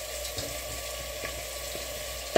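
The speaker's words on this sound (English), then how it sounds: "So the onion and tomatoes are cooking" Onion and tomatoes fry in a pan with a steady, close sizzle and a few faint stirring taps, ending in a sharp knock.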